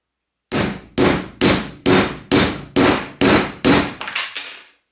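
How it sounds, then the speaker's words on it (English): A chisel is hammered through a 16-penny nail with a dead blow hammer: eight sharp metallic strikes land roughly every half second, loud and close, followed by a few lighter taps and a faint ringing. "I'm going to take this chisel and cut a 16-penny nail in half with it"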